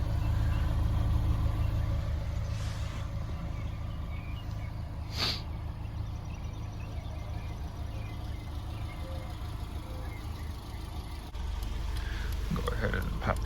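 A 2005 Subaru Forester X with a naturally aspirated 2.5 engine idles at its single exhaust, a steady low rumble held close throughout, with a couple of brief higher noises passing over it.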